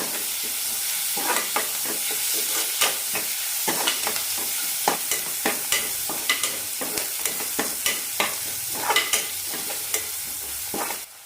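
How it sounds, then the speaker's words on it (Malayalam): Curry leaves, shallots, ginger and garlic sautéing in a pan, a steady close sizzle of frying broken by repeated sharp scrapes and clinks of a spoon stirring, about a dozen strokes over the stretch, no voices. "കറിവേപ്പില ചെറിയ ഉള്ളി ഇഞ്ചി വെളുത്തുള്ളി ചേർച്ച് നന്നായി ചോന്ന കിട്ടണം അതുവരെ വഴറ്റാം"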